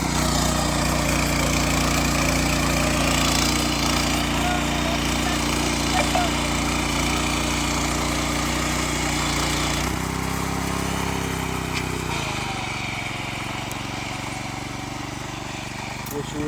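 A soil-tilling machine with plough-like blades, used for loosening earth around rose plants, drones loudly and steadily nearby, its engine note dropping and easing toward the end while a voice talks over it.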